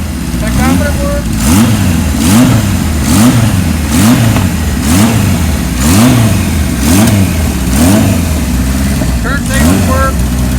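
A cold 1978 Kawasaki KZ1000 LTD motorcycle engine revs repeatedly in steady, even surges, loud and close, with a rising-and-falling rhythm about once a second and no voices over it.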